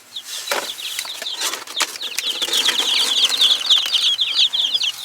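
Baby chicks in a brooder box scramble and flutter close by, with dense high peeping chirps running throughout over rustling and scratching movement.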